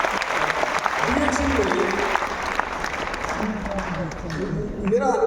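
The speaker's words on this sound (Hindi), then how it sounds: "Give yourself a very big round of applause, ladies and gentlemen." Big round of applause from an audience at a DXN business meeting in Patna, a steady dense clatter of many hands filling the clip with a voice speaking over it.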